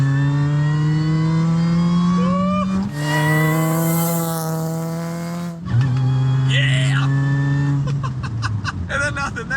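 A supercharged Saturn four-cylinder with big cams revs hard through the gears, a loud, close engine drone rising in pitch with a high supercharger whine, brief drops at shifts, and someone talking over it.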